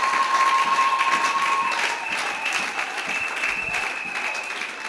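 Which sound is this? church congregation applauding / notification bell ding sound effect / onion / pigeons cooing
church congregation applauding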